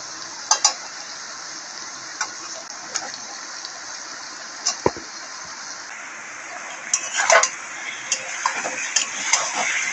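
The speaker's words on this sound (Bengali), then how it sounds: "মাংসটা আমি কষিয়ে নেব।" Meat stirred into masala in a pan, with steady frying sizzle throughout and scattered clinks and scrapes of a spoon against the pan, growing busier toward the end.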